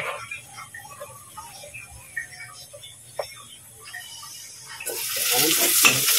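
Garlic fries in oil in a casserole pot until it turns reddish, as a base for a mung bean stew. At first there is a faint, crackling sizzle with scattered pops and stirring clicks, then a loud, steady hiss swells up near the end.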